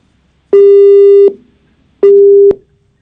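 Telephone busy tone after a call is cut off: two loud, steady, pure beeps, the first about three-quarters of a second long and the second about half a second, each followed by silence.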